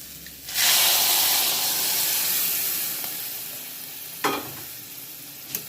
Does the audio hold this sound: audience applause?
no